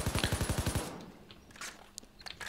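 Rapid burst of Falcon rifle fire in Payday 2, about eight close, loud shots in quick rhythm, then quieter scattered game sounds and clicks.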